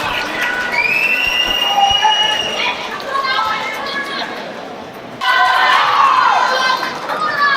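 A home crowd at a Swansea mixed martial arts fight cheers and shouts loudly for the local fighter, a dense roar of many voices that dips and then surges again.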